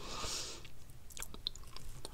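Close-miked mukbang chewing of a salted marshmallow cookie: soft, wet, sticky squishing bites with a few sharper clicks, intimate and quiet, with no talking.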